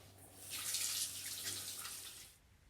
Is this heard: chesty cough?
no